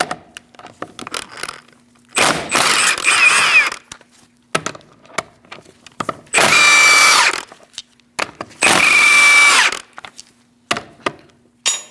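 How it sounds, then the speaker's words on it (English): A 17mm socket on a power tool loosens the rear wheel lug nuts of a 2000-2006 Mini Cooper: three loud, close whirring bursts of a couple of seconds each, with clicks and knocks in the gaps. "Using a 17mm socket, we're going to remove our wheel."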